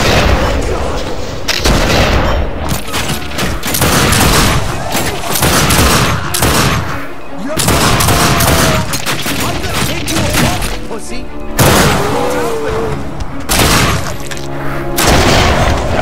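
Sustained gunfire in The Darkness II video game: loud, dense bursts of shooting and booms filling the whole stretch, with speech faintly underneath.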